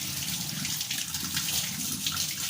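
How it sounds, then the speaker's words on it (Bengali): Tap water runs steadily over raw local chicken as it is washed in a sink, a constant close splashing rush with no talking. "এই যে এইভাবে চিকেনটা ধুয়ে একটা করে"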